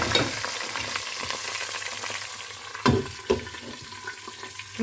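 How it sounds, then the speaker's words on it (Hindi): Chopped tomatoes and spices fry in oil in a pan for a spinach, potato and aubergine curry, a close, continuous sizzle broken by a few louder stirring scrapes and clatters. "इसमें मैं अभी ये चॉप टोमेटो डाल दूंगी, साथ में ये सारे मसाले में डाल दूंगी।"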